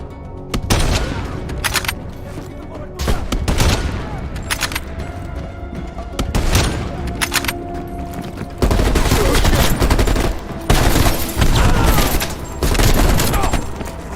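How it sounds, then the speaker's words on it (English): Heavy gunfire in the video game Call of Duty Black Ops Cold War, dense loud bursts of automatic fire and booms that continue almost without a break, with voices shouting at times. "They're shooting at us!"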